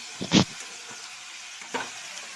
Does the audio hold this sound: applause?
no